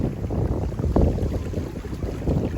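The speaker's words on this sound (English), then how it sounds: "Now the wind's kicking up." Wind blows hard outdoors during a fly-casting session, a steady rough buffeting roar close on the microphone for a couple of seconds with no talk.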